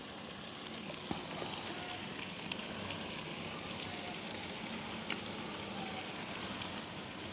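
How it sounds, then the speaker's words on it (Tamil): Ingredients for mango curry saute in a pan at a village cooking setup, a faint steady crackling sizzle with a few soft clicks, no talk. "உங்களுக்கு நல்லாவே கரையாக வேணுமெண்டா இன்னும் கொஞ்சம் அப்படியே வதங்க விடலாம்"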